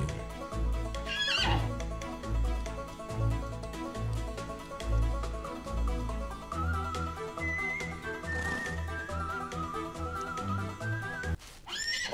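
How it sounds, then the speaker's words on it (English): A quarter horse in the video game Outlaws of the Old West neighs and whinnies repeatedly, with a high rising whinny partway through, over steady hoof clip-clop and game ambience. "This one is a quarter horse."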